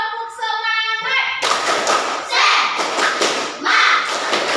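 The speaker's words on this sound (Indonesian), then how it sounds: "sekali lagi tepuk semangat" A classroom of children performs a rhythmic spirit clap, sharp patterned claps in quick bursts following a short tonal sound at the start, with children's voices chanting along between the claps.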